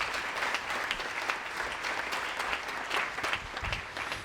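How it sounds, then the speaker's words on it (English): An audience at a school district event applauding, a steady wash of clapping hands from a crowd lasting several seconds, moderately loud and fairly close. "Let's give a big round of applause one more time."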